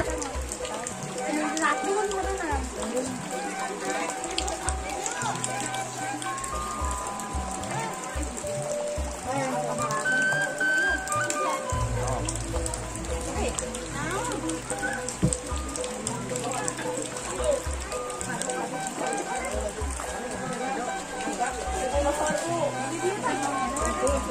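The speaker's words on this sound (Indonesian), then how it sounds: "Suasana resepsi pernikahan di hujan nih, ini para tamu undangan menghadiri." Rain falls steadily on surfaces during an outdoor wedding reception, a constant pattering hiss under people talking nearby throughout.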